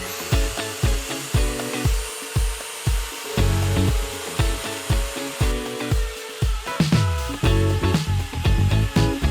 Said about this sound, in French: je vais passer un petit coup de défonceuse et enlever donc cette largeur là sur mon MDF de 19